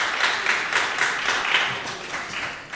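An audience claps at a city Land Use and Transportation Committee meeting, with a brief burst of moderately loud, dense applause that slowly tapers off.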